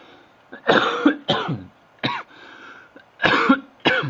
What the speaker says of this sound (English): I've got this bad cough.